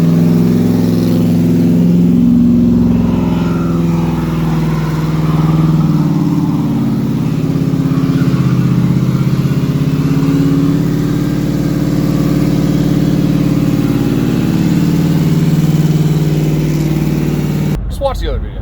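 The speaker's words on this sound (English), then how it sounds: "Here's a clip of that burnout if I can find it." Car engine revving hard during a burnout, a loud sustained drone that rises and holds, with someone talking over it until it cuts off at the end.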